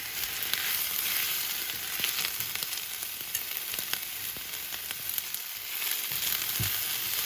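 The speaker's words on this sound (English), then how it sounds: "now that the onion and the spinach is sauteed" Onion and spinach sauté in a skillet with a constant close sizzling hiss, punctuated by occasional light taps and scrapes from a utensil.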